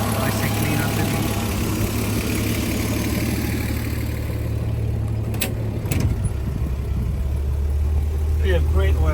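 A 1983 Jeep CJ-7 Renegade with Howell fuel injection idles with a low, even rumble, heard close up throughout, with someone talking over it.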